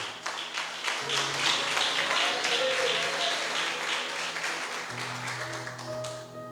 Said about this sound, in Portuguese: pode se assentar e aplaudir a Jesus